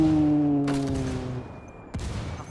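Gunfire in the tactical shooter video game Ghost Recon Wildlands: two sharp shots about a second apart, ringing out over a steady droning tone.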